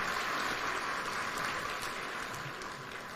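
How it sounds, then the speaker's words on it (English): A crowd applauds steadily at the official opening of Kenya Innovation Week in Nairobi, a dense wash of clapping that slowly eases toward the end. "One more round of applause for His Excellency"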